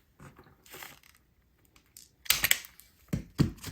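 Insulation being stripped off wires with a hand tool: a few faint clicks, then two louder sharp snipping crunches close to the mic, separated by quiet gaps.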